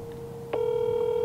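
A steady tone on a telephone line switches abruptly into a different, louder sustained tone partway through, sounding like the ring signal of a landline call heard through the handset.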